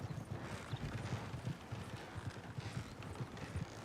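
Horses pulling a wagon in a Western roleplay video game clop along at a steady trotting rhythm, the hoofbeats fairly faint and continuous over a soft rumbling background, with no talk.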